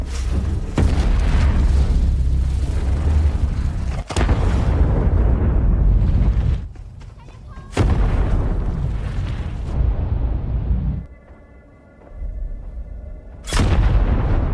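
Several loud, deep booming landmine blasts in sequence in a film, each a sudden broadband burst followed by rumbling decay, with brief quieter gaps between them.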